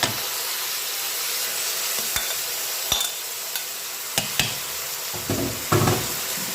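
Courgettes added to a Cookeo multicooker pot for ratatouille sizzle steadily and close up, with occasional sharp knocks and scrapes of a utensil stirring them, and no voices.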